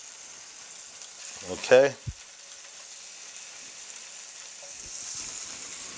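Bacon strips snipped with kitchen shears straight into a hot skillet, a steady close sizzle running throughout, with a brief spoken word and a short clatter partway through.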